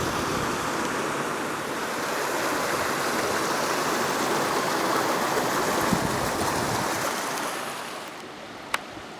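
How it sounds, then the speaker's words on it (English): The large River Creuse pours over a weir in a steady, roaring rush of water, loud and continuous, easing slightly near the end, with a single sharp click and no voices. "That's all the water that's coming through, really. A big river like this."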